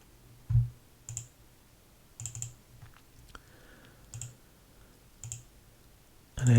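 Computer mouse double-clicking, sharp paired clicks repeated several times at close range against a quiet background, with a louder bump at the end.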